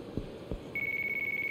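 A telephone rings in Yakuza 3 Remastered, a steady high electronic ringing tone that starts partway in and continues unbroken, preceded by two soft low thumps.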